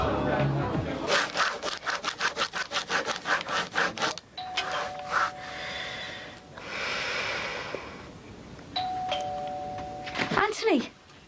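Doorbell at a house ringing with short electronic tones, a couple of separate rings with sustained pitches, following a stretch of rhythmic rasping sound, with breathing and voices nearby.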